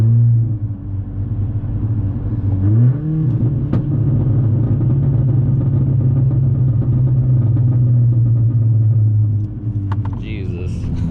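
A tuned 10th-gen Honda Accord 1.5-liter turbo engine drones steadily at about 2300 RPM, heard loud and close from inside the car, with a brief rise in pitch early on before settling into an even hum.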